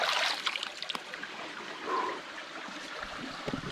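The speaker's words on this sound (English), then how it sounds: "this is spring water. It is so cold." Cold spring water trickles and dribbles close by beside an old abandoned railroad in northern Michigan, with faint gurgles and small splashes rising and fading.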